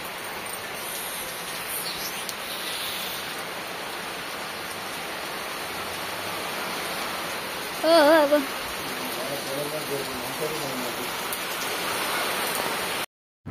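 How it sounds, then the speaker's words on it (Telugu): Heavy rain pours down in a steady, dense hiss throughout, with a brief voice calling out partway through. "మొత్తం వాన పడుతుంది."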